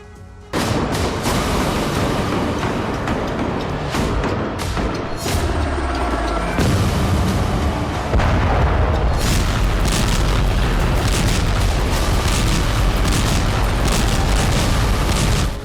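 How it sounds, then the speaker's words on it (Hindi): Explosions strike around Gaza's Al-Shifa hospital during the war at night, heard as loud, continuous, rumbling booms and blasts that fill the clip densely, with no clear voices. "गाजा का अल शिफा अस्पताल एक बार फिर धमाकों से दहल उठा।"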